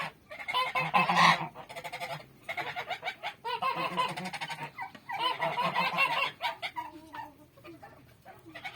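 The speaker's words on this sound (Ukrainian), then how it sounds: "Два гусака билися, щось незрозуміло. Крик такий піднявся." Two ganders fight, geese honking and squabbling loudly in noisy bursts, harsh overlapping cries rising and falling over several seconds before tapering off.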